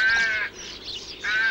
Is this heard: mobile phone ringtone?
no